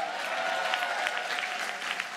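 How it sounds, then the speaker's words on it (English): Audience applause and cheering for a presenter at the GLAAD Media Awards ceremony, a steady, fairly quiet roar of clapping that fills the whole moment. "make some more noise for our next presenter, star of Crazy Rich Asians and Superstore, N"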